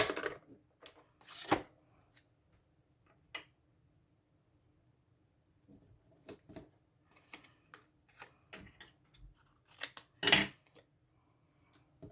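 Scissors snipping paper while trimming a handmade card, scattered short crisp cuts and rustles close up, with long quiet gaps between bursts.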